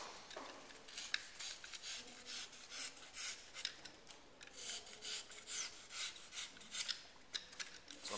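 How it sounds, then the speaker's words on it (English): A knife model being cut by a back-and-forth sawing stroke to slice a bone section off, giving repeated dry rasping strokes in a steady irregular rhythm, close and fairly loud, with no talking. "so I'm making a sawing action. I slice the bone off."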